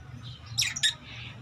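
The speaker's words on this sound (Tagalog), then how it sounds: "Yan ang ating mga ibon." Birds give two quick, sharp squawks one right after the other, faint against a low background hum.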